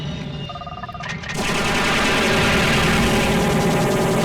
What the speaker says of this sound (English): Yeah, I got some missiles there for you.